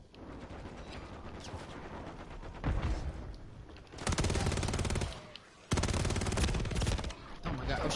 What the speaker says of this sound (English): Shooting between them